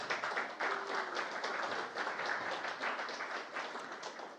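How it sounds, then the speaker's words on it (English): Audience applause at an evening PubTalk in a brewery, a steady even spread of many hands clapping throughout, moderately loud and continuous without voices standing out. "How about another round of applause for Rob Williams?"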